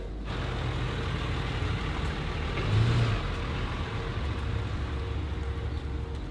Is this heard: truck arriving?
yes